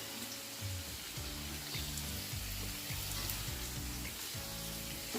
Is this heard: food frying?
yes